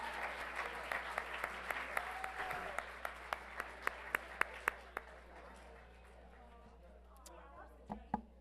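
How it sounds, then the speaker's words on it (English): Scattered clapping from a small audience at a school governing board meeting honoring Wilson Elementary School; sharp, fairly evenly spaced claps that are faint overall and thin out after about five seconds, with a few late claps near the end. "So let's have one more round of applause for Wilson Elementary School."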